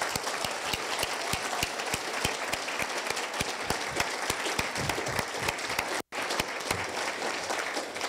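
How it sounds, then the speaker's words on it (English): A large audience applauds steadily at a business awards ceremony honouring influential women, with dense continuous clapping that cuts out for a split second before resuming at full strength. "Let's hear a round of applause for all of them."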